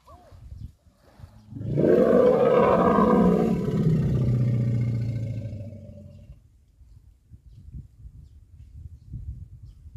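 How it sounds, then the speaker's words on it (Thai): A large elephant lets out a loud, sustained roar of about four seconds that swells and then tails off, with soft rustling and movement before and after. "ลักกี้คำรามอยู่ทางนี้นะคะ"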